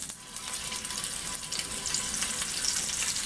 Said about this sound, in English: throw in some of this bacon fat here, and we're just gonna fry up this